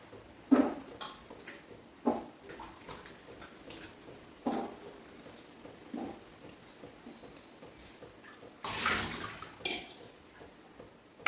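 Chopped pumpkin being washed in water in a kitchen: intermittent splashes and sloshes, a few louder bursts of pouring or rinsing, with quiet gaps between them and no talk.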